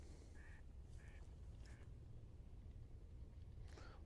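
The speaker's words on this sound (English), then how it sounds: "You can see tons of birds getting up over here." Ducks quack a few times at a distance over a steady outdoor rumble of wind near a drainage ditch at a conservation area, with a brief flutter as birds take off.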